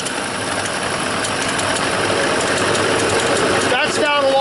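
A car engine idles with a steady, even hum that holds throughout, ending with a brief shift in tone near the close.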